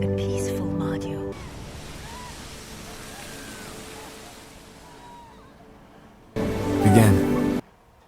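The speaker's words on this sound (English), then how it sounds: "bring back the waves" Ocean waves in a film: a soft, steady surf wash fills the middle stretch, then a louder burst of rushing water comes in near the end, with voices briefly at the start.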